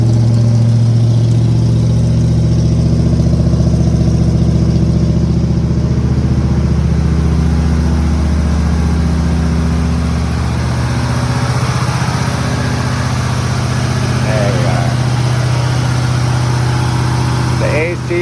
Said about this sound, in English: Now she just downright growls.